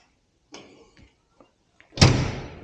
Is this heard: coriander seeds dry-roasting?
no